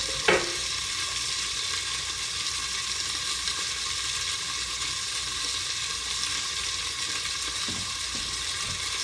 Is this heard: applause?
no